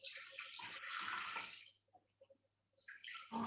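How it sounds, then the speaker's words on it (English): Water pours from a tap into a container while cooking in a home kitchen, a steady rushing flow that stops briefly with soft drips before running again. "I'm just adding the water."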